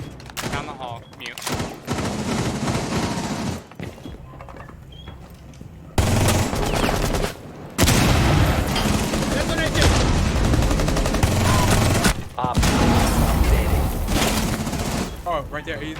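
Vector submachine gun fitted with a hollow sight and flash hider firing in Rainbow Six Siege, loud rapid bursts broken by short pauses and gaps of quieter room sound.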